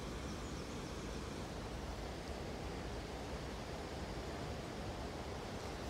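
Steady, dense rushing of water on the River Nene, a continuous broadband wash filling the scene at even loudness with no voices over it.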